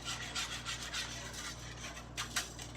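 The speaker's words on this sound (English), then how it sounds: "I'm just whisking this to get all the lumps out." Quick scraping whisk strokes repeat steadily against a metal pot of Thai coconut soup, a brisk rasping rhythm at moderate distance with no talking.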